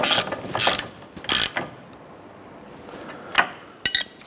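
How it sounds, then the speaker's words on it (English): Ratchet tightening the lower ball joint nut on a 2006-2013 Chevrolet Impala control arm: a few short bursts of ratcheting clicks close by, separated by quiet pauses, with a couple of brief metallic clicks near the end. "So let's go ahead and tighten down our lower ball joint nut here."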